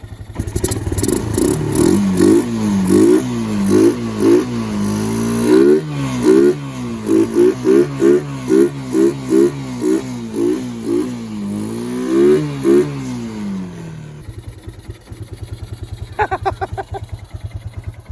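A cold Kawasaki Bayou ATV engine on half choke revs hard in a rapid series of close, loud rhythmic bursts, then drops back to a rough, uneven idle.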